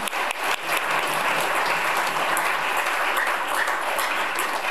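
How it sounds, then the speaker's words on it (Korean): A large audience gives sustained, full applause in celebration at a launch ceremony, a dense wash of clapping that holds steady for several seconds with little else over it. "우리 서로 축하하는 의미로 큰 박수 치면서 다시 시작하겠습니다"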